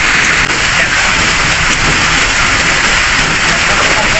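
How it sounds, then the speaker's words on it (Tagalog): Loud, constant rush of heavy rain and gusting wind over a small boat near Cotabato City, a dense roaring wash with no letup, close and enveloping. "naabutan kami ng malakas na ulan hangin"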